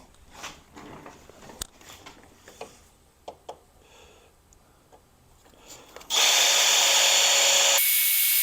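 A power drill boring a hole in a DIY 2.5 kWh battery box, starting with scattered clicks and handling knocks, then a loud, steady high-pitched whine for about two seconds that drops as the bit slows.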